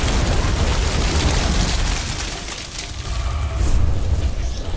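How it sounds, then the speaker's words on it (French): A film explosion rolls out as a loud, sustained, close roar with deep rumbling, briefly easing before swelling again, with no speech over it. "Au final, tout le monde a explosé."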